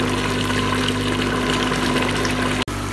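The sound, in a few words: water running while washing taro root (arbi)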